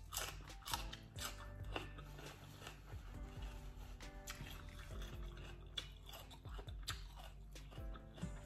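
Close, crunchy chewing of miang kham, Thai wraps of leaves filled with shrimp, heard as a quiet run of repeated bites and mouth sounds with little else around.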